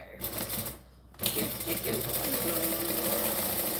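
A sewing machine runs a seam on reptile-print fabric to close a pocket, whirring steadily after a short pause near the start, loud and close.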